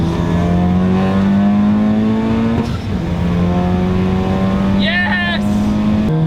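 A 2023 Honda Civic Type R growls steadily through a new exhaust system, its engine holding a sustained, loud drone with a slight rise in pitch, close by and continuous throughout.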